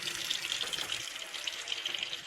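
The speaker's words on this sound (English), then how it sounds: "The hot water supply tap is opened and the mixer is turned on." Water runs steadily from an opened hot water supply tap and mixer during a water heater installation, a continuous close hiss and splash with no talk.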